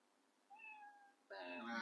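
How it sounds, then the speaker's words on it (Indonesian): A cat meows twice, the first a thin drawn-out call and the second louder and fuller, each clear and close with quiet background between. "Ini malah ada suara di kucing, guys."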